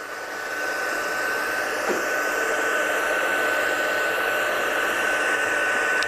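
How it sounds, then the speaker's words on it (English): Steady blowing hiss of a heat gun heat-setting embossing on a watercolour card, starting softly and then holding at an even, fairly loud level with no speech over it. "So I'm just going to heat set this one. Get your gun hot."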